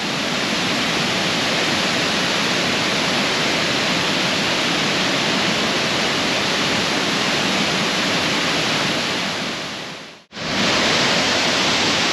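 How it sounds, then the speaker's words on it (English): A waterfall viewed from its bottom platform gives a loud, steady, broadband roar that fills the whole clip, with a brief dropout just after ten seconds before the roar returns. "show you guys firsthand how amazing this waterfall"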